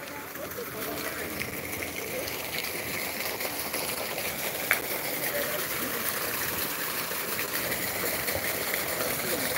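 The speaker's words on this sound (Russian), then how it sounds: "Такой водопадик." Small park waterfall in Odesa, a steady broadband rush of falling water running continuously under outdoor street ambience, with people talking nearby.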